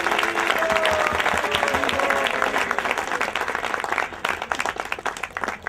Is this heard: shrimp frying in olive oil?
no